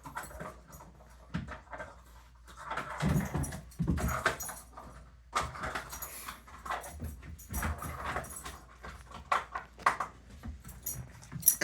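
A dog plays with a plastic laundry detergent bottle cap indoors. It makes scattered clattering knocks and scuffles, with panting between them, at moderate to low loudness.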